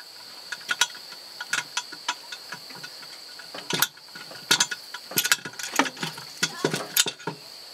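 Sharp metallic clicks and ratcheting bursts from hand tools working on a car engine during alternator removal, irregular and close, over a steady faint high whine.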